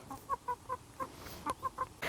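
Chickens on a small self-sufficient farm clucking in a quick series of short, separate calls, fairly faint and close, ending with a brief rustle.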